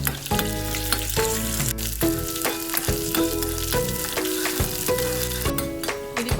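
Green peppercorns fry in hot oil for a chicken curry with coconut milk, giving a loud, steady sizzle and crackle with a few clinks of a spoon against the pan.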